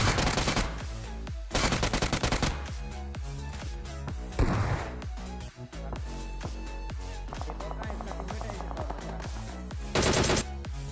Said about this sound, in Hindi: तो यहाँ भाई पीछे की तरफ फायरिंग चल रही थी तकड़े वाली